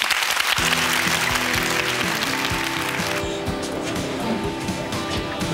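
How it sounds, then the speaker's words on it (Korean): Applause from a TV quiz show studio audience, a dense patter of clapping that continues throughout, with steady background noise beneath it. "축하와 함께 격려의 박수 부탁드리겠습니다"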